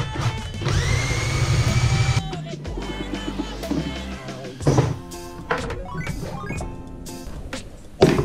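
A cordless speed drill whirs steadily for a couple of seconds while cranking a router table's height adjustment, followed by clunks, knocks and workshop handling noises.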